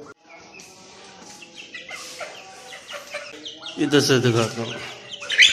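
Two hens and a rooster cluck and call close by in a home yard, with someone speaking over the birds, the clucking growing louder and busier toward the end.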